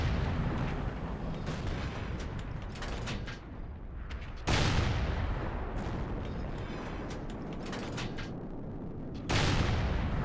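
Centurion 7/1 tank firing its 20-pounder gun in World of Tanks, heavy booming shots at roughly 4.5 and 9.3 seconds, each loud blast fading into a dense rumbling, mechanical battle din.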